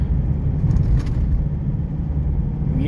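Car driving along a road, a loud steady low engine rumble and road noise heard from inside, constant throughout.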